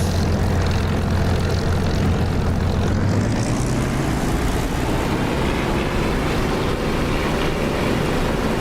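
An aircraft engine roars loud and constant in the DCS flight simulator as the plane takes off, its droning tone climbing in pitch partway through, with no voices.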